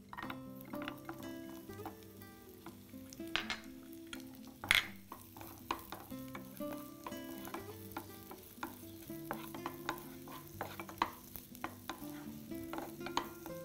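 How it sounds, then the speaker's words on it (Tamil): Finely chopped small onions (shallots) fry in melted butter in a pan, giving a soft continuous sizzle with frequent stirring scrapes and one sharp utensil clink. "இந்த வெண்ணெய் கொஞ்சம் உருகின உடனே இந்த பொடியாக நறுக்கி வச்சுருக்க சின்ன வெங்காயம் சேர்த்துக்கோங்க"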